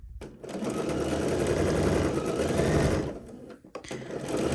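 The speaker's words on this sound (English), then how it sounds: "I'm sewing it at 3/8 of an inch because I just want to make sure I hit that 1/2 inch." A sewing machine runs a steady, continuous stitch along a folded dress seam at the underarm, loud and close, with a brief pause near the end before the motor picks up again.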